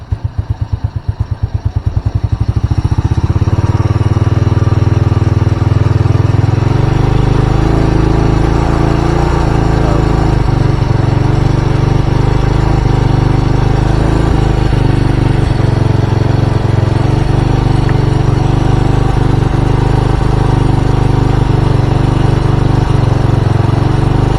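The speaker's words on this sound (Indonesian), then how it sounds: "Kita setting ya, kita naikkan RPM nya." A Honda Supra motorcycle engine that runs rich, fouls its spark plug black and starts hard in the morning sputters at first, then holds a loud, close, steady high idle with its RPM raised.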